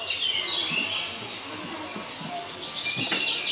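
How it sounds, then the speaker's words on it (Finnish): Indoors in the Moomin house at Moominworld, Finland, birdsong plays as steady high chirps and trills over a soft room hum, moderately loud and continuous with no talking. "Mutta täällä sisällä kuuluu lintujen laulu."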